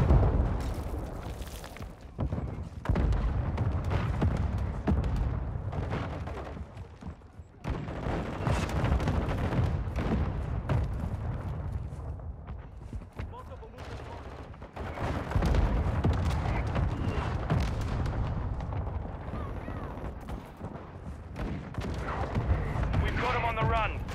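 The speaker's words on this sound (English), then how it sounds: "Our mortar strike is inbound." Mortar strike explosions and heavy gunfire in the video game Call of Duty: Modern Warfare II, booming blasts and rattling shots packed together almost nonstop, with voices breaking in now and then.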